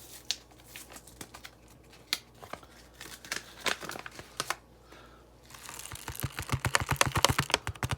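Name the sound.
tearing open tomato seed packets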